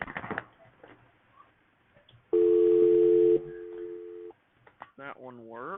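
An L.T.E ST-37V hospital telephone sounds a steady tone about a second long, followed by a fainter tone, with quiet handling noises between and someone talking at the start and end.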